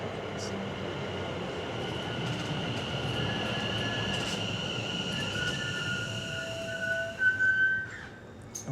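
A train rumbles steadily past, close by, with faint metallic squeals and whines rising over the continuous rolling noise.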